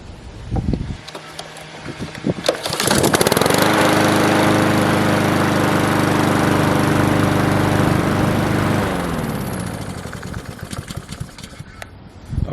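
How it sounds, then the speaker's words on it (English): A lawn mower engine, fitted with a new spark plug, catches on one pull after a few rattles, roars loudly and steadily for several seconds, then winds down. "Let me go ahead and turn the lawnmower on"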